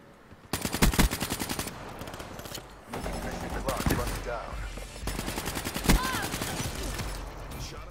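Rapid automatic gunfire from the video game Call of Duty Black Ops 3, loud dense bursts of shots with brief gaps, plus game sound effects and voices in the background.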